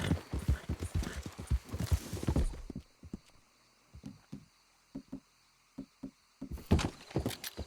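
Horse hooves in Red Dead Redemption 2: a rapid burst of loud galloping thuds, a near-silent pause with a few scattered hoof knocks, then the hoofbeats pick up again.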